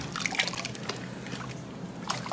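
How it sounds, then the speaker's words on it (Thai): Tap water runs steadily at a sink while hands are washed, a soft continuous trickle and splash close by, lasting the whole moment without talk. "ไปล้างมือก่อน"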